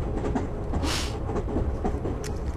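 A train rolls along the rails with a steady rumbling drone and faint rhythmic clatter. A brief hiss rises in the middle.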